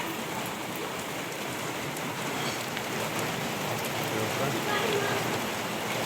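Raindrops patter steadily on an outdoor surface at the start of a monsoon shower, a soft continuous hiss with scattered taps and no clear thunder.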